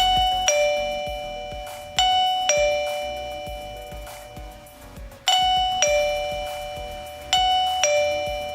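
A Govee wireless doorbell chimes repeatedly, bright two-tone ding-dong rings sounding several times in quick succession, clear and close with ringing decay.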